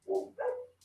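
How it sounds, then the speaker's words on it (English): Two quick barks from dogs come up close and moderately loud, a short pair of yaps with nobody speaking. "Got some happy dogs."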